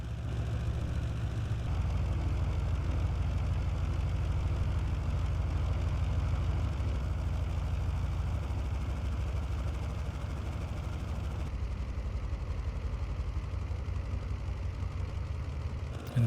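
A Junkers F13 vintage plane's engine idles steadily while taxiing in Microsoft Flight Simulator, a continuous low drone with a faint rhythmic pulse that holds at an even level.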